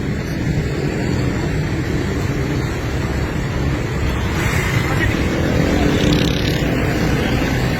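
Busy street traffic with cars and motorbikes fills the scene, a dense, loud, continuous roar of passing engines up close, swelling slightly toward the end.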